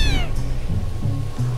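A lynx kitten in the Shelter 2 video game lets out a short meow at the start, followed by soft, repeated low mewing calls over a steady low background, close and clear.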